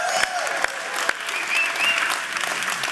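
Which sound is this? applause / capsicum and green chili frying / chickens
applause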